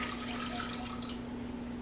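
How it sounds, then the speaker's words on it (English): Water pours steadily into a small Instant Pot Mini pressure cooker fitted with a trivet, about a cup's worth, a continuous close splashing stream with a faint steady hum beneath and no talk. "I'm just going to add about a cup of water"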